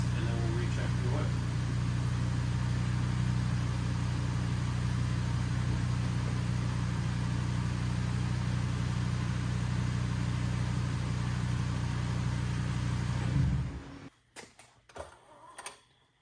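A 2012 Volkswagen Jetta engine idling after an oil and filter change, a steady, even low hum with a faint ticking layer that holds for about thirteen seconds and then cuts out, leaving scattered small knocks.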